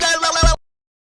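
A robot makes a warbling, buzzy electronic sound for about half a second, close and loud, ending in a low thump before silence.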